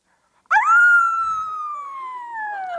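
A human voice imitates a dog with one long, loud, howl-like cry that starts suddenly, then slowly sinks in pitch and fades a little, alone with no other talk.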